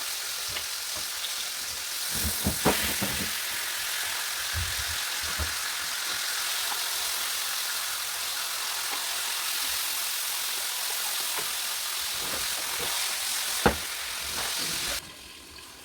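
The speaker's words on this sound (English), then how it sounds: "let it simmer in for a couple of minutes" Meat simmers in sauce in a pan on the stove, giving a steady soft sizzle and bubble throughout, with a few faint utensil clicks and stirs.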